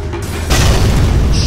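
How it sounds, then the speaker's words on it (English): A tower collapsing in a Dota 2 match, heard as a loud, deep boom with a rumbling burst that starts abruptly and sustains to the end of the short moment. "Dire's bottom tower has fallen."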